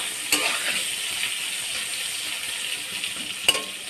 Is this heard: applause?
no